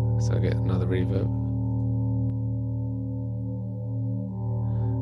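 A sampled tone is played through a convolution reverb in Ableton Live, giving a steady, loud, drone-like sustained harmonic chord that rings on evenly, with a brief vocal sound at the start.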